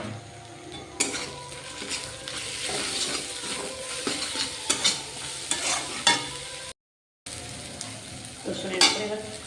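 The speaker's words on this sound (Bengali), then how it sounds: "রসুনটা দিয়ে দিচ্ছি উপর থেকে।" Garlic goes into a pan of browned onions for chicken kosha and is stirred, giving a continuous sizzle broken by scraping spoon strokes and clinks against the pan, with a short silent gap near the end.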